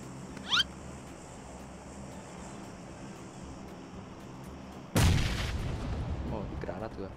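A grenade explosion in the PUBG video game, a sudden loud close blast with a rumbling tail, preceded by a short high chirp, over quiet game ambience without talk.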